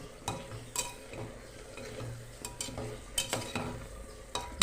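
A spoon stirs rice inside a pressure cooker on a kitchen stove, giving soft intermittent scraping and clinking strokes over a low cooking hiss, close and fairly quiet with no voices.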